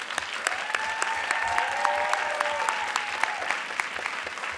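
Audience at a live young women's media event applauding, a dense continuous patter of clapping from a moderate-sized crowd, steady and fairly even for the full few seconds, with a few faint cheers.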